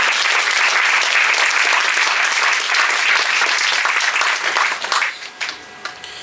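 Church congregation applauding together in a sustained burst of clapping, dense and steady for about five seconds before thinning out into scattered final claps.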